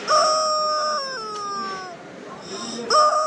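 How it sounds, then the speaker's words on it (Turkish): A rooster at a flea market crows loudly in one long, wavering call that trails off, followed by the start of another crow at the end. "Görüyorsunuz öten"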